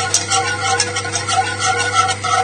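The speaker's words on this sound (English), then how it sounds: "And just keep whisking it till the butter's all emulsified" A whisk works butter into a sauce in a heated pan as part of a lamb shanks dish, giving a steady, close scraping swish that runs without pause and without talk.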